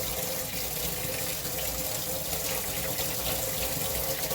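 Water runs and splashes steadily as wet braiding hair is rinsed and wrung out over a sink, a continuous close flow with no talk.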